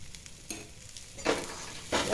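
Green peas frying with a roasted ground mix of coriander, cumin, dried chilli and garam masala, a soft sizzle with two louder surges of stirring close by.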